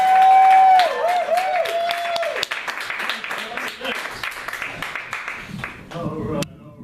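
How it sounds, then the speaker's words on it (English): Audience applause at a comedy show, clapping and crowd noise rising after a brief tone, sustained and fairly loud, with a voice speaking over it toward the end. "Please put your hands together for Rodney Dangerfield."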